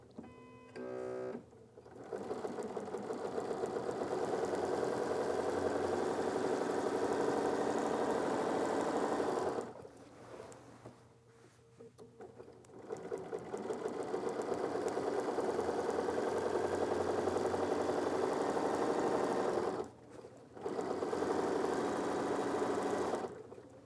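A Bernina sewing machine free-motion quilting with its dual feed runs in three long, steady stitching bursts, close and loud, separated by brief pauses where the motor stops.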